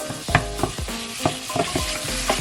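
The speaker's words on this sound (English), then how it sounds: "So I can almost give it a little sear." Chicken pieces searing in a pan for a Portuguese chicken curry (frango caril) sizzle steadily, broken by sharp utensil clinks and scrapes every half second or so.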